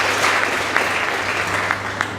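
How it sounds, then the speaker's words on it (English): A steady round of applause from the audience at a school debate between St. Angela's High School and General Mulinge School, even and moderately loud throughout. "Please give them a round of applause."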